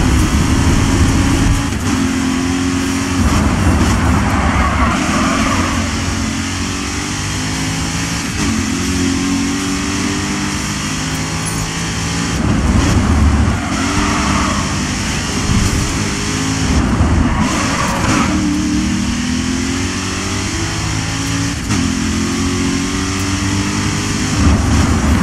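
Race car engine in the racing game GRID, roaring continuously for the whole stretch with repeated rising and falling pitch sweeps through gear changes, loud and close.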